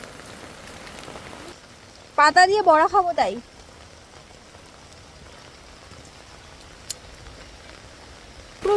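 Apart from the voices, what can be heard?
heavy rain falling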